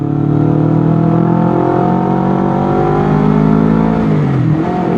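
A Honda CBR 250 RR twin-cylinder motorcycle engine revs up close and loud, a steady buzzing drone with pitch gradually climbing then easing back near the end.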